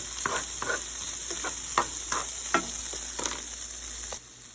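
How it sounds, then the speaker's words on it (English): Frozen shrimp fry and brown in a tablespoon of oil, sizzling steadily as a utensil scrapes and stirs the pan in several sharp strokes, close up and without speech, before the sizzle cuts off near the end. "I added a tablespoon of oil because I want this to brown."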